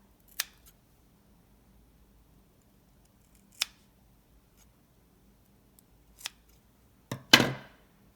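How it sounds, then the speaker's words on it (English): Scissors cut a yarn tail on a paperclip pom-pom with a few sharp, separate snips, ending in a longer snip, close and fairly quiet against near silence. "take your scissors and cut the tail to the size of the pom-pom"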